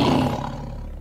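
A tiger's roar used as a sound effect in a Korean folk tale: one loud, deep, rasping roar lasting about a second, fading at the end.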